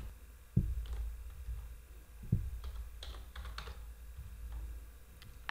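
Computer keyboard typing, a quick run of soft key clicks with a couple of heavier taps, close by against a low hum.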